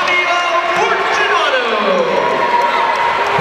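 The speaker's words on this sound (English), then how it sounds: "The crowd seemed to like that one a bit as Fortunato nails a 3" Crowd at a college men's basketball game, Waynesburg at Saint Vincent, cheers a made three-pointer, a steady broad roar of voices that holds throughout with a commentator talking over it.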